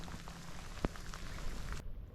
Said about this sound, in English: the rain is starting to pick up again here